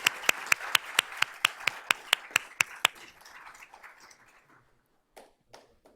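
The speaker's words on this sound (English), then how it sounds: "Let's give them a round of applause" At a school board of trustees meeting, sharp, evenly spaced claps ring out about a dozen times in a steady rhythm, then fade to near silence before a few scattered quieter claps close it.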